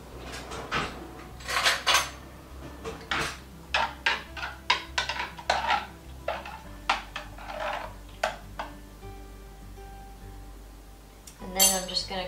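Ginger lemonade being stirred: a spoon clinks and scrapes repeatedly against a glass container in irregular bursts, close and fairly clear, with quieter pauses between strokes.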